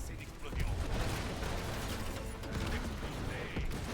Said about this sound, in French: c'est l'explosion